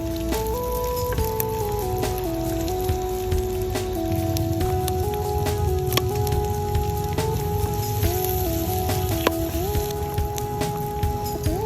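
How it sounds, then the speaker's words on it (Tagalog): Meat, onion and garlic sautéing in a pan while cooking ginisang bunga ng malunggay, giving a steady, continuous sizzle throughout, with sustained musical tones playing over it. "Pag nag-brown ang karne, saka tayo magigisa ng sibuyas at saka bawang."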